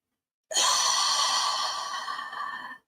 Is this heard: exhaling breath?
yes